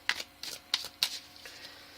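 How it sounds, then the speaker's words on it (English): Tarot cards are shuffled by hand in several short, crisp riffling bursts with brief pauses between, close and fairly quiet, with no talking. "I will just shuffle for you"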